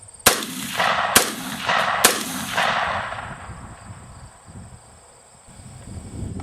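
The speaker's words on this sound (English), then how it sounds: "fire a 3 or a 5 shot group" Three sharp, loud shots from an AR-15 .223 rifle fired as a sighting-in group outdoors, spaced under a second apart, each followed by a rolling echo, then insects chirping steadily in the background.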